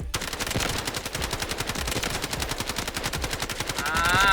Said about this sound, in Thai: ผมจะลองยิงแบบคุมให้ดูนะฮะ